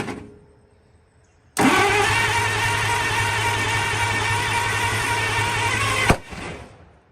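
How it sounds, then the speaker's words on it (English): A 1939 International fire truck engine with a stuck exhaust valve cranks and catches, then roars steadily for several seconds before cutting off abruptly, leaving a fading rumble. "Try to whirl her over again and see if she'll fire."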